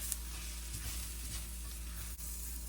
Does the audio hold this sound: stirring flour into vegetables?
yes